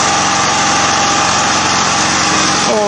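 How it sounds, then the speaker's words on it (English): A small engine runs steadily on tree dioxide in the Phoenix Gasser, a loud, continuous rapid putter that stays close and even throughout, with no voices. "brand new engine running on tree dioxide."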